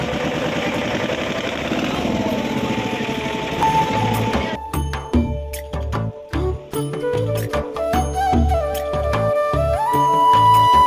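Motor boat engine running steadily on the Ganges river, a continuous mid-low drone with steady vibration that stays loud throughout, joined partway by a rougher, choppier mix of sounds over the engine.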